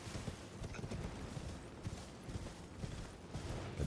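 Galloping hooves of a ghostly horse mount in Elden Ring Shadow of the Erdtree, a quick continuous patter of hoofbeats over a thick layer of game ambience, steady in level throughout.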